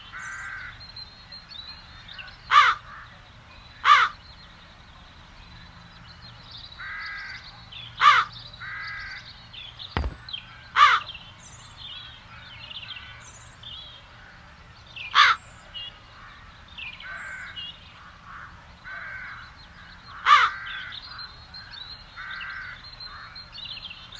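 Crows in The Dark Eye: Chains of Satinav give loud, harsh caws in a handful of separate bursts spaced a few seconds apart, over a steady low ambient hum with faint background calls.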